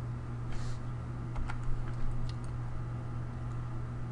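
Faint, sparse keystrokes as a ping command is typed on a computer keyboard, a handful of soft clicks over a steady low electrical hum.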